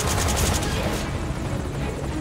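Loud, sustained rapid gunfire in Metal Gear Solid V: Ground Zeroes, a dense close barrage layered over a heavy helicopter-like rumble.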